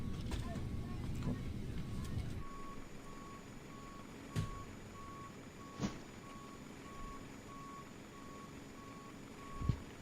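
Reversing beeps from a refueling truck in Microsoft Flight Simulator, a steady repeating tone pulsing at regular intervals throughout, moderately faint over a low engine rumble, with a few brief knocks.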